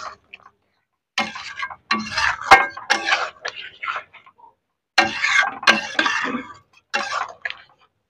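Chilli chicken is stirred in a pan after ground black pepper is added. Bursts of metallic scraping and clinking of a spatula against the pan come in irregular, close clusters separated by brief silences. No one speaks.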